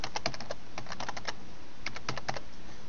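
Password being typed on a computer keyboard: two quick bursts of key presses, close and clear, separated by a short pause, with no talking.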